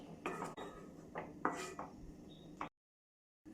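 A quarter cup of semolina is stirred in a pan, with a spoon scraping and clinking against the metal in several short strokes before everything falls silent.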